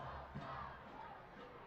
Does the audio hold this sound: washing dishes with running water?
no